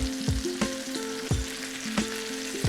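Flour-coated chicken pieces fry in a pan with a steady close sizzle, punctuated by several sharp clinks and scrapes as pieces are turned, no talking.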